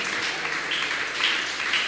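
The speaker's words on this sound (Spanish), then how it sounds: "¿Cuántos le dan un aplauso al Señor?" A church crowd at an evangelistic campaign claps in a dense, continuous wash of applause, moderately loud and steady throughout.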